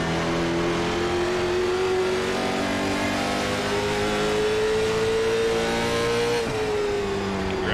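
Late model stock car racing at Stafford in a racing game, its engine a loud, close, sustained roar with a slowly rising pitch, briefly dipping near the end as the car lifts and then pulls again.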